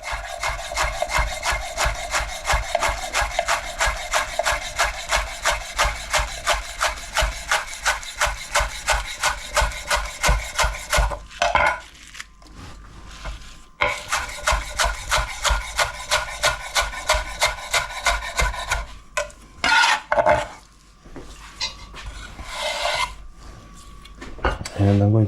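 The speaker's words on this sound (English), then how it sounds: "And I'm going to add some lemon zest." A lemon is zested on a grater in quick rhythmic rasping strokes, close and crisp, in two long runs separated by brief pauses and a few clinks.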